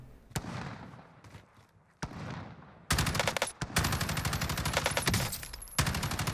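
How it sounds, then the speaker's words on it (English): M4A1 gunfire in the Warzone video game: a few sharp single shots, then a sustained loud rapid automatic burst with a brief pause before it resumes, close and dominant. "Even after the first few shots on that guy, I wasn't even sure it was a guy. That's why I fired 3 or 4 and then stopped."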